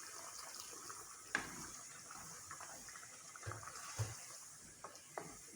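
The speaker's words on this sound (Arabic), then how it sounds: "كل شويه نزيدوا شويه ماء." Water added to a pot of potato and chicken stew in a home kitchen, a faint running, splashing pour with a few sharp clinks and knocks of utensils against the pot.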